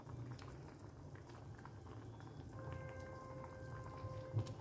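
Egg curry gravy bubbles at a steady boil in a pan on an Indian home stove, a continuous soft burbling and popping with no one talking.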